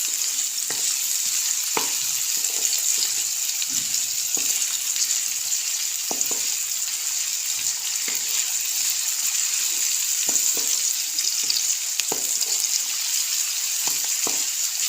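Light frying in ghee, a continuous bright sizzle running steadily throughout with regular soft scrapes of stirring, close and even, no voices.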